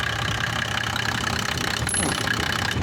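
A 3.0-litre twin-cam, 140-horsepower engine driving an irrigation water pump runs steadily at idle, a continuous mid-pitched hum with a faint rhythmic knock, close by and uninterrupted.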